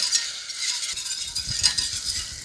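White wine vinegar sauce reducing in a deglazed pan, giving a steady, close sizzle and bubbling with light stirring and a few soft utensil clinks.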